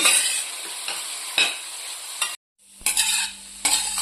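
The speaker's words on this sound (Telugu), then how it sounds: "మొత్తము మీడియం ఫ్లేమ్ పెట్టి ఫ్రై చేసుకోండి" Carrot halwa fries on a medium flame while being stirred, with a steady sizzle broken by scraping strokes of a spoon against the pan, a brief silent gap, then more stirring and sizzling up close.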